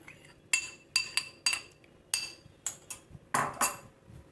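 Cut mango pieces go into a mixer jar with a quick run of about nine sharp, close clinks and knocks, irregularly spaced, in a quiet kitchen.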